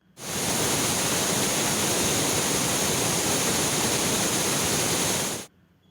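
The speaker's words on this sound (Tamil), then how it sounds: "அணைப்பிள்ளையார் தடுப்பணை நீர்வீழ்ச்சியில் வெள்ளம் கரைபுரண்டு ஓடுகிறது" A flooding waterfall at the Anaippillaiyar check dam, swollen after heavy rain, roars as a loud, unbroken wall of rushing water that starts abruptly and cuts off near the end, with no voices.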